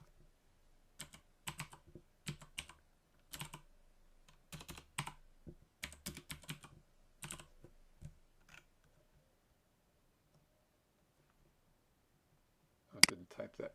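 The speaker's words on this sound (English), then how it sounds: "I didn't type that right." Computer keyboard typing in irregular bursts of quick, close clicks, pausing between runs, then a final short flurry after a long quiet gap.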